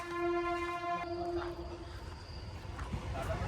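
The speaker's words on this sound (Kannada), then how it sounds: "ಟ್ರೈನ್ ಬರ್ತಿದೆ ಗೈಸ್." A train passes with a sustained horn blast sounding for the first two seconds, then fading into the rumble and rattle of rolling wagons, heard from somewhat far off and fairly faint.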